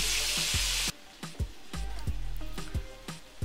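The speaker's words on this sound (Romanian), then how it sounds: "Adăugăm untul în tigaie. Îl lăsăm să topească." Butter melting in a hot frying pan: a loud sizzling hiss at the start drops to a quieter crackle with repeated small pops and taps.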